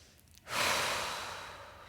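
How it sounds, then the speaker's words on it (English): A single long, deep exhale during a yoga session, close and soft, swelling suddenly and then slowly fading as air is released. "Let's just continue with breathing."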